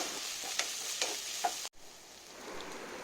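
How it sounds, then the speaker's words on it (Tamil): Crushed ginger and garlic with onions sautéing in a pan, giving a bright steady sizzle with a few stirring scrapes, a brief sharp cutout midway, then a quieter, softer hiss. "இஞ்சி பூண்டு நல்லா வதங்கிருச்சு."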